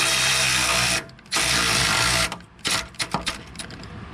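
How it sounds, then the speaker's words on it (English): Milwaukee ratchet tightening a bump stop mounting nut on a 2005 GMC Sierra 2500HD: loud, close mechanical whirring in two sustained runs, then short choppy bursts and clicks. "we are using our Milwaukee ratchet, and we're simply just tightening it"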